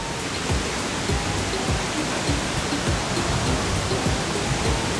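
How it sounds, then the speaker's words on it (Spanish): A large waterfall in Puebla, Mexico, pours as a steady, loud broadband roar of rushing water, constant and dense throughout with no pauses. "La verdad, nunca había visto una cascada tan grande."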